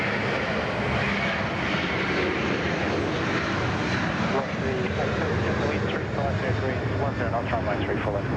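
A jet airliner takes off at Sydney Airport with a loud, steady, broadband engine roar that holds throughout, while a voice talks over it.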